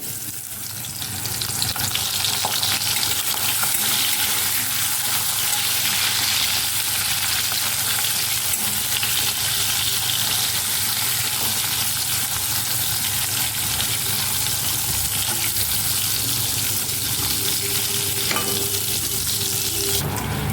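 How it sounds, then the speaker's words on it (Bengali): Slices of pointed gourd fry in hot mustard oil with a loud, continuous sizzle that holds steady throughout, close up and without talk. "দিয়ে দেবো সরিষার তেল তেলটা ভালোভাবে গরম হয়ে গেছে আর আমি প্রথমে আমি এই পটলটাকে ভেজে নেবো"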